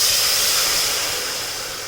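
Milk poured into a hot pan for a rice-flour dish hisses and sizzles loudly and continuously, slowly easing off over two seconds.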